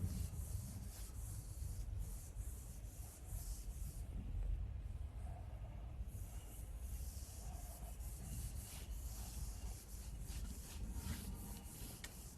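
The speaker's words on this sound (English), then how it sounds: "allow me to rub this part of the board" A duster rubbing chalk off a classroom blackboard, a continuous close scrubbing and swishing that rises and falls in strokes, with no speech.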